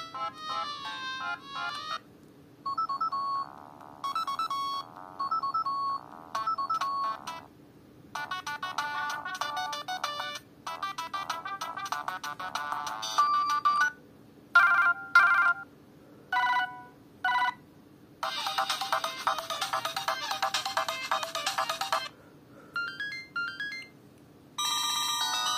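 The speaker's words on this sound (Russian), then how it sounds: "Есть встроенные рингтоны медийные" Built-in media ringtones of a Siemens C72 mobile phone play one after another: short bursts of polyphonic electronic melodies and chiming tones, separated by brief silences, loud and close with no talking.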